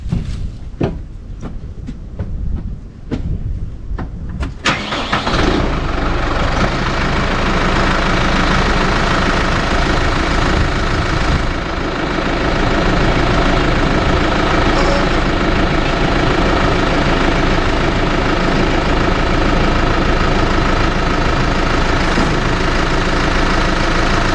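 A Case IH 75C tractor engine idles steadily and close by, a continuous low mechanical drone; the first few seconds carry clanks and knocks of loader work before the engine noise fills the rest.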